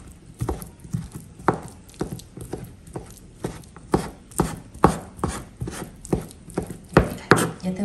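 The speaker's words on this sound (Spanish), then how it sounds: "voy a picar un poquito de costillita" A knife chops pork ribs repeatedly on a cutting board, sharp close thuds in a steady, slightly uneven rhythm.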